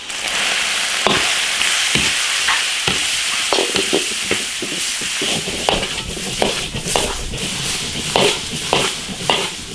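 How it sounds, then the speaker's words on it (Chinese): Pork offal stir-fries in a large iron wok over a wood-fired stove with Sichuan pepper and dried chilies, giving a loud, continuous sizzle broken by the repeated scrape and clatter of a spatula. "来一点花椒、干辣椒， 炒香，炒出红油，下猪杂"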